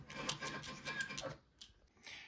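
Quick rhythmic scraping strokes rasp against a brass cartridge case up close as it is deburred, a short series of rough scratches that fade into lighter taps.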